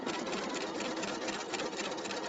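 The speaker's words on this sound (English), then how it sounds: "So it's just straight stitching back and forth to give the flower some texture" A Pfaff sewing machine runs straight stitching back and forth in a steady rapid chatter, its needle rhythm continuous and even throughout, close up with no voices.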